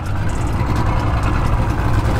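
A boat motor idles nearby at a launch, a low, steady engine rumble, continuous and fairly loud with no talking.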